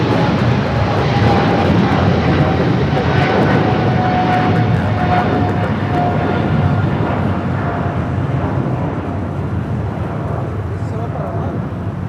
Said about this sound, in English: the flight heading to London Heathrow